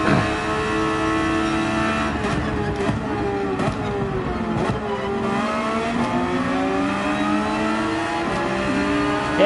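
A 2022 Porsche 911 GT3 RS in Gran Turismo 7 races at Interlagos, its engine revving loudly and continuously with rising and falling pitch sweeps through gear changes and throttle lifts.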